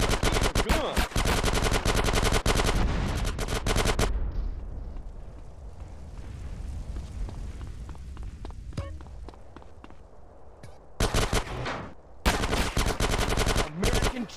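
Loud bursts of rapid gunfire in GTA San Andreas, opening and closing the stretch with a quieter gap of footsteps and scattered shots between.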